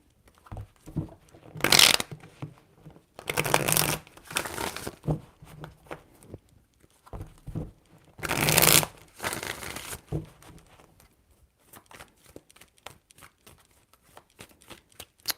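Tarot cards are shuffled in several separate bursts of close, papery riffling and snapping, with shorter taps and slides between them and a string of light flicks toward the end. No voices are heard.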